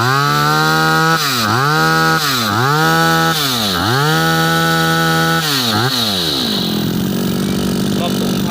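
A used brush cutter's small two-stroke engine screams at full throttle, repeatedly dipping and surging back, then drops to a lower rough idle near the end.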